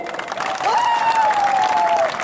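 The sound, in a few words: crowd applause for ex-minister Harendra Riang at a rally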